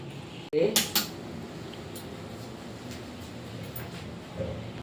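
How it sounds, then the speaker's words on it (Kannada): A kadai frying pan is set down for cooking bitter gourd masala, giving a couple of sharp metallic clanks near the start, then a quiet kitchen hum. "ಬಾಂಡ್ಲಿಯನ್ನ ಇಟ್ಟಿದ್ದಾರೆ"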